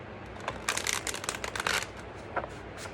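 A deck of cards being shuffled: a burst of quick riffling rattles and a few short flutters, moderately close, with no talking.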